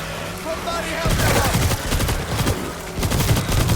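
Rapid bursts of gunfire in the zombie shooter World War Z, starting after a second and continuing densely throughout, loud and close, with players talking over the shooting.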